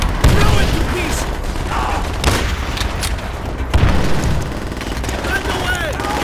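Continuous battlefield gunfire in the video game Call of Duty: World at War, dense rattling shots and dull booms under shouted voices throughout.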